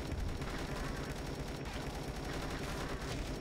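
Dense, continuous gunfire in the zombie video game Dead Ahead: Zombie Warfare, rapid automatic shots rattling loudly without pause over game sounds.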